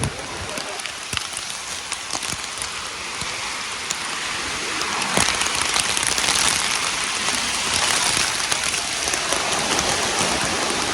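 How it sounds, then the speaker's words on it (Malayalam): Steady heavy rainfall pours down throughout, a constant broadband hiss with scattered sharper drop impacts, growing slightly louder partway through. "നമ്മൾ പോരാൻ വേണ്ടി നിന്ന ടൈമിലാണ് ഈ മഴ വരുന്നത്"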